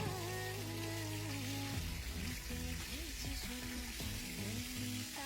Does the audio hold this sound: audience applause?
no